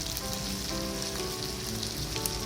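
Yakitori chicken pieces sauté over low heat in a Teflon frying pan, a soft steady sizzle like light rain, faint and even throughout with no voices.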